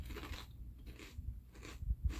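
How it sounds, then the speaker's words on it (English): Crunchy Ruffles Spicy Cheddar Jack potato chips bitten and chewed close to the mic, a few sharp crisp crunches followed by quieter munching. "Let's see if we get that crunch"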